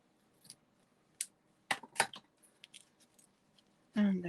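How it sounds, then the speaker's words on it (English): Paper snips cut through a ribbon loop on a handmade card, giving a few sharp close snips and clicks spread across a quiet table, with a brief voice at the end. "I'll take my paper snips and just cut this loop at an angle."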